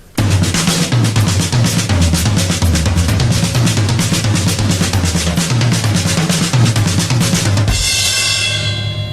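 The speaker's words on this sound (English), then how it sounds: "let's just take the accents and place them around the toms to create other rhythms." A drum kit plays a steady, loud accented pattern with the accents shifted around the toms, dense hits driving continuously before ending on a crash that rings out alone.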